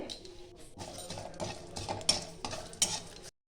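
Dry red chilli, bay leaf and panch phoron spices sizzle in mustard oil in a pan while a metal spoon stirs and scrapes, with several sharp clinks against the pan over a steady, close frying hiss that stops abruptly.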